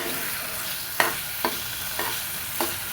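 Spices frying in oil in a pan, a steady soft sizzle punctuated by four sharper scrapes of a spatula stirring at roughly half-second intervals.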